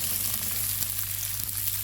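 Onions fry in a little oil in a pan, giving a continuous close sizzle with faint stirring under a low steady hum, no talk.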